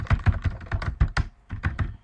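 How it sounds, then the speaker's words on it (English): Random typing on a computer keyboard, close and clear: quick bursts of key clacks with a heavier thunk, then a brief pause before a few more strokes. "let me just do some random typing so that you really get what we are saying."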